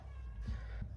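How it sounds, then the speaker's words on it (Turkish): A cat meows outside a house in a short, fairly faint call against a low background hum. "Abi bizim evin önünde bir tane kedi var."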